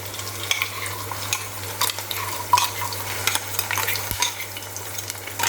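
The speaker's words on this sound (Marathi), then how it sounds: "आता हे तेलावरती आपण परतून घेऊया" Ground raw peanut paste sizzles in peanut oil with chilli, a steady frying hiss broken by repeated stirring scrapes of a spoon in the pan, close and fairly loud, under a low constant hum.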